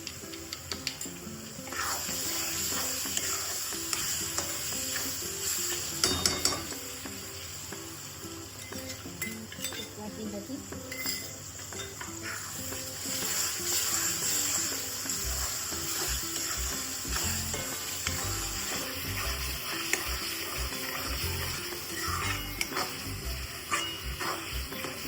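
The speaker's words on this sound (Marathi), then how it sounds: "दही चांगलं तेल सुटू द्या." Whisked yogurt fries with spices in oil for chicken dum biryani, a faint, uneven sizzle with stirring clinks and scrapes, growing busier toward the end.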